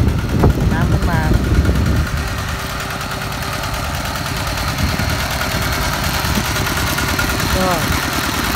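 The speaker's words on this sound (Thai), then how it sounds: "นี่คือเครื่องนะครับปั่นน้ำขึ้นมา" A small engine-driven water pump idles steadily on a Thai watermelon farm, pumping water for irrigation and fertilizing. Its low, even chugging starts about two seconds in and runs continuously, with someone talking over the first part.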